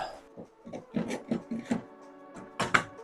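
Screws driven into segments of a steam bending jig: short, fairly faint, rasping bursts of turning and scraping, five or six in a loose rhythm, with one louder creaking burst near the end.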